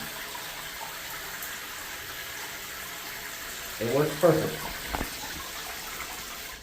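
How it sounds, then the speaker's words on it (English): Shower water runs steadily into a bucket while waiting for the water to heat, making a continuous, fairly quiet hiss throughout, with a person briefly talking partway through. "when you're running the shower, you're not gonna be able to see the water too well, but it just all goes right in the bucket"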